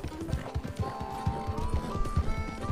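Horse hooves clip-clop in a quick, steady trot in the Red Dead Online video game, close and clear over a faint tonal background.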